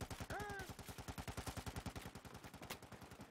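Rapid automatic gunfire in the shooter Battlefield 4, a steady run of sharp, evenly spaced shots lasting a few seconds, loud and close.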